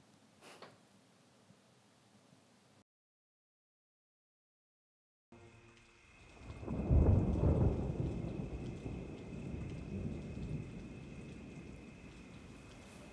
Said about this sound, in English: Storms are coming.